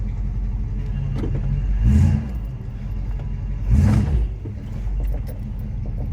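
Matilda, a home-built Wasteland Weekend vehicle, rumbles along with its engine running as it starts to move, the engine note swelling twice in short revving surges over a steady low drone.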